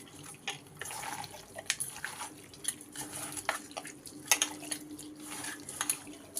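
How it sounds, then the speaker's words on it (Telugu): Soaked rice being mixed by hand in a steel vessel for chicken pulao, with soft wet clinks, drips and scraping in a steady, close, quiet stirring rhythm. "మంచిగా కలుపుకోవాలి."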